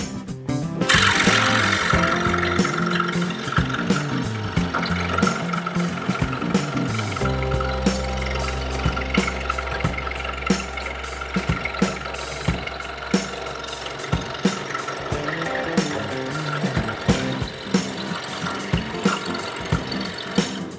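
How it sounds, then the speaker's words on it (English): A fab lab cutting machine cuts curves, giving a loud, continuous mechanical whir with rapid ratchet-like clicking and gear noise that shifts in pitch and texture as the head changes direction, with no voices. "The machine is also capable of cutting curves."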